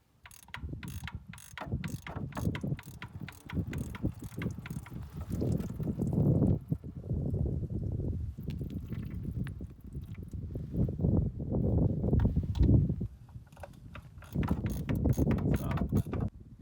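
A torque wrench clicks repeatedly on a Honda CB400 oil drain bolt set to 20 foot-pounds, with sharp ratcheting clicks and clanks over a rumbling background of mechanical handling.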